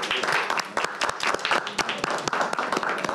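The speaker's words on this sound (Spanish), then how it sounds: "le vamos a dar un aplauso" A small group claps to welcome new members to a sales team, sparse and uneven individual claps rather than a dense roar, close and moderately quiet.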